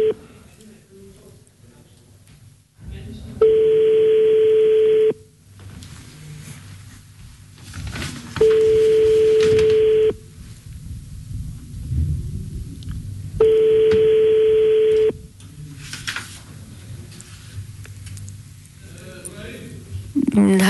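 A mobile phone call fails to connect, giving three separate steady tone bursts of about two seconds each with pauses between, heard over a telephone line during a Moroccan radio discussion, with background talk between the tones.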